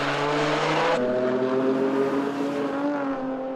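A race car pulls out of the pit lane on fresh tires at the 2011 Nürburgring 24 Hours, its engine loud and close with a steady droning note and an abrupt gear change about a second in.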